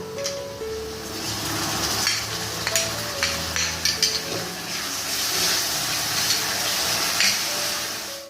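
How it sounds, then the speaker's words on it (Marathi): Ground paste drops into a pan of well-browned fried onions and sizzles loudly and continuously up close, with irregular scraping and stirring clatter on top. "आता आपण यामध्ये वाटून घेतलेली पेस्ट टाकूया"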